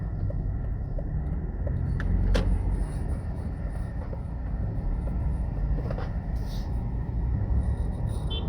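City street traffic in New Kingston, Jamaica: a continuous low rumble of passing vehicles with a few faint clicks and distant higher tones, heard from close by inside or near a moving car.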